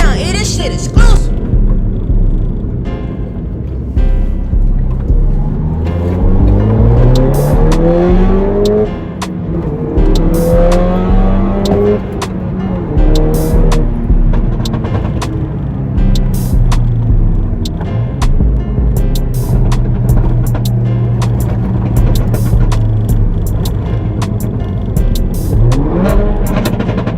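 A turbocharged Audi S1 Quattro with a stage 3 tune and about 400 bhp is on a test drive, its engine revving up and down through gears with loud rising and falling tones while people talk inside the car.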